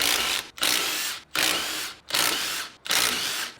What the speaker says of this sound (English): The hub comes off now, 8mm Allen key bolts.